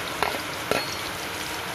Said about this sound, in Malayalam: എല്ലാം കൂടി ഒന്ന് മൂക്കട്ടെ